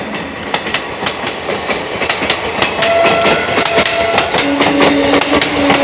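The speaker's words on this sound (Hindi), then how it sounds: "ये दया बस्ती रेलवे स्टेशन है। यहाँ पर चलते ट्रेन में से बैगों का छीना झपटी होता है।" Moving train passing through Daya Basti railway station, with loud clattering wheel clicks on the rails and sustained horn tones sounding in the second half, close and continuous without speech.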